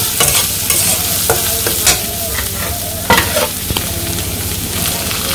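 Boiled taro greens tipped into a hot pan with turmeric and chilli and stirred, village style: scraping spatula strokes and clatter over a steady close sizzle of frying, no voices.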